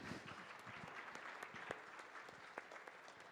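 Audience applause for storyteller Gene Tagaban at a forum, a crowd clapping with distinct individual claps audible, heard faintly as if from a distance, with no talk over it.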